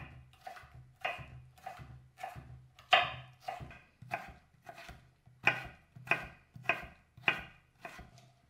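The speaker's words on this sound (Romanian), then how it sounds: "Tăiem câțiva castraveți proaspeți în bastonașe." A knife cuts fresh cucumbers into sticks for vegan kimbap, giving about a dozen crisp, evenly spaced chops on a board, close and clear with no talk.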